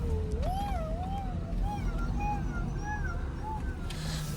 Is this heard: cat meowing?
yes